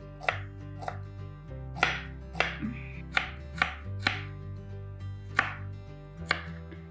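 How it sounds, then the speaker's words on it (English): An onion sliced finely with a knife on a cutting board, about ten crisp, evenly spaced chops heard close up over quiet background music. "I'm just going to slice it fine."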